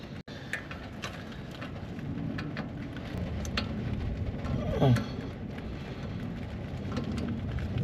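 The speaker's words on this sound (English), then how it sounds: "it started to rain quite a lot, so gazebo time" Heavy rain pours steadily on an outdoor work area beside a Nissan 350Z drift car, a dense continuous hiss with a brief louder rumble midway.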